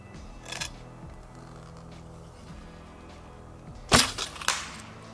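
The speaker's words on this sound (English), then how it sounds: "I'm gonna have to peek around this big tree and kinda shoot like this." An arrow shot from a traditional bow strikes a stump in snowy woods, a sharp release snap followed by a loud impact crack and a brief rattle, with quiet outdoor background between.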